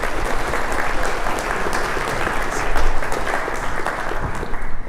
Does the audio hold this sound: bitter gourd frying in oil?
no